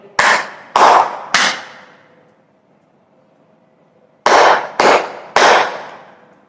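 Rhythmic clapping beats: a group of three sharp, loud strikes with short ringing tails, a pause of about two seconds, then another group of three. The sound is close and clear, with no voices.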